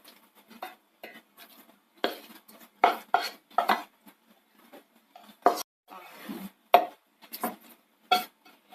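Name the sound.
transferring cooked mixture into a mixer jar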